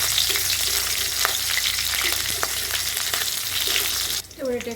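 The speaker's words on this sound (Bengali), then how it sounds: "এবার এটাকে একটু ভালো মতো ভেজে নিচ্ছি।" Black cumin seeds and chopped green chillies fry in oil over a low gas flame, a close, continuous sizzle with occasional stirring scrapes that cuts off abruptly near the end.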